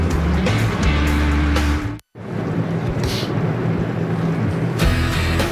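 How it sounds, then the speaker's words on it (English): NASCAR Nationwide Series race car engines running at Road America, a loud, dense roar with a sharp cutoff to near silence midway before the rumbling engines resume and rise again. "The engines are fired."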